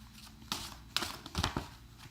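Playing cards are shuffled close up in a few quick riffling bursts, crisp and papery, in a quiet room.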